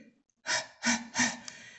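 Three heavy, out-of-breath pants in quick succession, close and loud, preceded by a faint breath, a voice acting as a man arriving after running.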